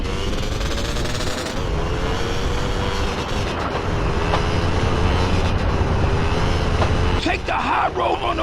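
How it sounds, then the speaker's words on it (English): A train rumbles past in GTA San Andreas, a loud continuous low roar with a droning tone, mixed with game engine noise and a brief burst near the end. "Coming train!"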